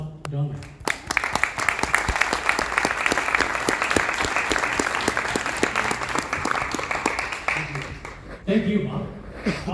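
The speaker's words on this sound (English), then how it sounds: "Give a huge round of applause to Mr. Bob Dongman." Live audience giving a big round of applause as a guest is introduced at an evening event, loud sustained clapping with crowd noise and some laughter, fading out near the end.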